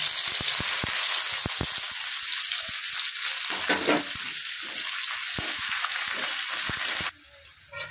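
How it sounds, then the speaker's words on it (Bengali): Chopped onion frying in hot oil with cardamom, cinnamon and bay leaf, a steady close sizzle with occasional utensil taps and stirring, running for several seconds before the frying noise drops away near the end. "তারপরে আমি একটু পেঁয়াজ কুচি দিয়ে দিচ্ছি।"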